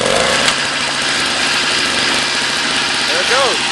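A classic G-Body car with a carbureted engine, primed after sitting with old gas, runs with a steady rough idle that fills the clip, loud and close, while a voice talks faintly underneath.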